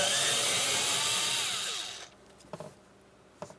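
A power driver with a T20 bit runs steadily, backing out the door lock actuator mounting screws on the rear sliding door of a 2008-2016 Chrysler Town & Country, then stops, leaving a few faint clicks and handling sounds.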